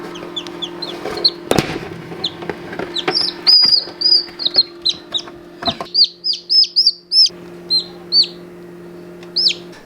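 Newly hatched Splash Maran chicks peep in rapid, high, repeated chirps close by while being moved into a brooder, with brief handling thumps and a steady low hum underneath.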